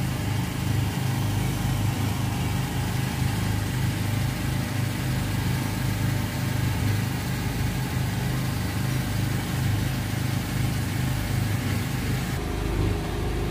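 A petrol generator runs on a floating raft house on Srinagarind Dam, a steady, loud, close mechanical drone with a low throbbing pulse that continues unbroken from start to finish with no voices.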